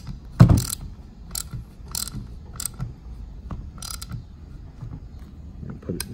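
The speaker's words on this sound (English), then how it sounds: "We use this one with a ratchet." A ratchet turns a Gearwrench Bolt Biter on a stripped bolt, making scattered, uneven clicks in short strokes, close by with faint background noise.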